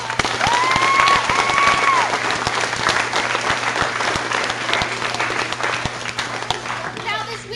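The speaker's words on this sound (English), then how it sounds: "please give all of them a round of applause" Sustained audience applause for event volunteers fills a hall, dense clapping holding steady at full strength for several seconds before easing slightly, with crowd voices mixed in.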